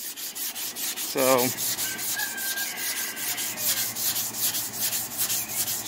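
Steady back-and-forth rubbing of a sanding block on a 1979 Ford F-150 truck body panel, a continuous gritty scrape with a brief tonal squeak early on, close and moderately loud.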